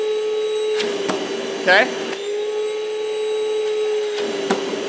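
A Ryobi ONE+ 18V cordless 1-gallon wet/dry shop vacuum runs steadily with a loud, even motor whine and a brief rise in pitch partway through, while a person says a single word over it.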